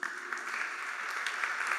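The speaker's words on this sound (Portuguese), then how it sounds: "Pode dar uma salva de palmas para Jesus?" A church congregation applauds in praise during a sermon, a steady wash of many hands clapping at moderate distance throughout, with no pause or speech standing out.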